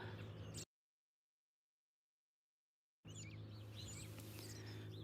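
Birds singing in Oxford, Maryland, a mix of chirps and calls over steady outdoor ambience, with a long silent gap in the middle.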